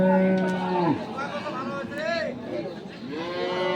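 Dairy cows at the Ambari cattle market in Dinajpur give loud, drawn-out moos, one long low call followed by rising, wavering ones, with faint crowd chatter behind.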